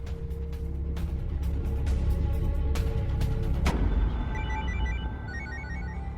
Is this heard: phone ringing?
yes